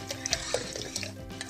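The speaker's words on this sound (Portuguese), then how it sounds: "mexe e vai colocando o leite." Spoon stirring rice pudding in a pot as milk is poured in, soft scraping and liquid sloshing with small clinks, close and quiet, no talk.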